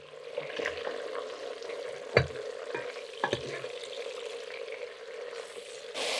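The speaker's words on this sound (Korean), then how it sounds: "김치의 색깔이 붉은빛에서 황금빛으로 바뀔 때까지 구워줍니다." Kimchi frying in rendered pork fat in a pot, a steady close sizzle broken by several sharp stirring scrapes and clacks.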